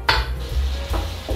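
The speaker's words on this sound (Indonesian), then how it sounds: "Kita gunakan minyak tadi untuk kita goreng untuk selama 2 minit saja" Blended torch ginger flower paste frying in oil in a home kitchen, with a quick clatter of a utensil on the pan followed by stirring and low sizzling, close and fairly loud.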